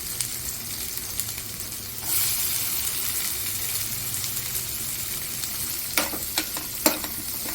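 Small onions sauté in melted butter for homemade pasta. A steady sizzling hiss swells after a couple of seconds, and a few sharp scraping stirs come near the end, with no talking.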